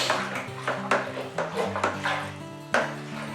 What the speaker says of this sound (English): we need to get a long sterilised spoon, and in we go and give it a good stir